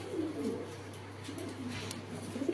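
Pigeon in its cage giving low, soft cooing calls, two or three rolling coos close by over a faint background hum.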